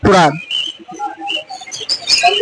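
Several exotic birds chirp and tweet in quick, overlapping bursts at the Mirpur bird market, with human voices mixed in among the calls.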